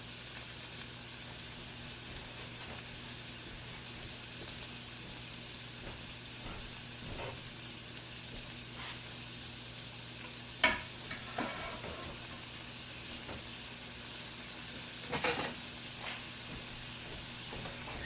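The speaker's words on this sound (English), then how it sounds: "You can hear my little sizzle here" Steady sizzling of onions and peppers sautéing in a pan, a continuous close hiss with occasional louder crackles and pops.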